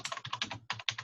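Computer keyboard typing during an online astrology livestream, a quick run of clustered keystrokes in bursts with short pauses, fairly close and alone without talk.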